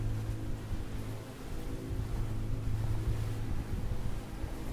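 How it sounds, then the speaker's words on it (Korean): Ship engines at full throttle in the Ship Simulator Maritime Search and Rescue game, three engines running at 25 knots: a steady, loud low rumble with wind-like noise over it, continuous throughout. "크루즈 컨트롤 엔진 3개 다 켜고 풀가속 25노트"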